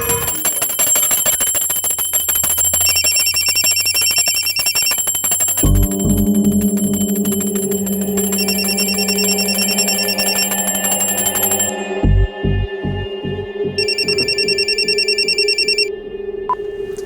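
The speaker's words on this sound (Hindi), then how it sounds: "अभी फोन की घंटी बजाने की क्या जरूरत थी?" Telephone bell ringing in repeated bright trilling bursts over a steady electronic hum, later joined by a lower pulsing tone, loud and continuous with no speech.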